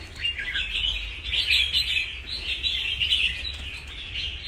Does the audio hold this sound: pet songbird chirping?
yes